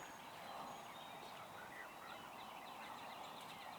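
Wild turkeys gobbling across a field in Tennessee: faint, distant rolling gobbles rise over a steady outdoor background hiss, with no talk during the calls.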